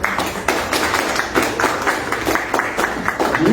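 Audience at a panel discussion gives steady, close applause, with dense clapping that carries a faintly rhythmic pulse and runs unbroken for a few seconds.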